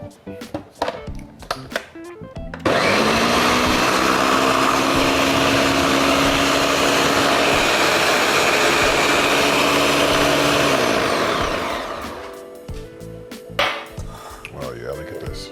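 A blender whirs loudly and steadily for about eight seconds, blending heavy cream into keto shrimp and grits, with a bright motor whine that starts abruptly and winds down, and speech before and after.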